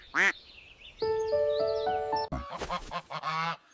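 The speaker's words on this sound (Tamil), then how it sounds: "அவனிடம் ஒரு வித்தியாசமான வாத்து இருந்தது" A duck quacks as a sound effect in a spoken folk tale, with loud nasal quacks over a steady tonal musical backing, followed by more quacking and honking bursts.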